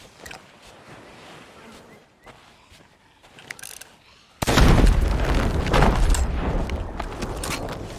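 In the pirate game Sea of Thieves, a bomb goes off with a sudden loud blast near an island, followed by a sustained roaring rumble and debris after a quieter stretch of clicks and ambience.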